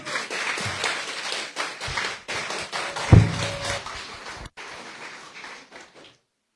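Audience applauding the mayor at a ceremony for new baccalaureate graduates in Baie-Mahault, a dense, moderately loud patter of claps that rolls on with a few louder thumps, then thins and fades to silence near the end.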